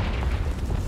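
A deep, rumbling blast from the Confringo explosive spell in Hogwarts Legacy, one short heavy boom that fills the moment without any voices.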